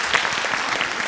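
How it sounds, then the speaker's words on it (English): Audience applause at a bilingual education conference, a steady dense wash of clapping throughout, fairly loud and close, with no speech over it. "Let's give Julianne a round of applause,"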